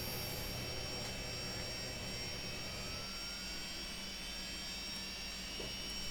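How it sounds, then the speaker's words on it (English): Engine number 2 of a Fokker 70 jet starting up in the FSX flight simulator makes a loud, steady whine and roar with a constant broadband hiss, unbroken throughout and free of speech. "Starting engine number 2."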